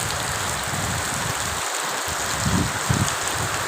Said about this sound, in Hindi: ये बारिश वाला दिन है।